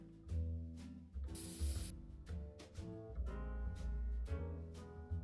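A short burst of spray paint hisses while a workshop sign is painted in a car repair video game, lasting about half a second over loud background game music.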